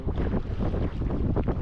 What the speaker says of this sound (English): Sorry, it's the wind.